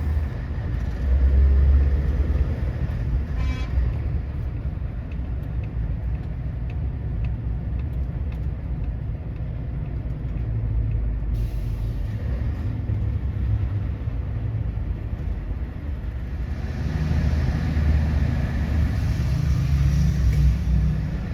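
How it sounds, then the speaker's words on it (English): Road traffic on the Paris Périphérique ring road heard from inside a moving vehicle: a continuous low engine and tyre rumble with passing cars and motorbikes, swelling at times, with no talking. "There's a motorbike coming up the outside, straight across the chevron. There's a car coming as well now."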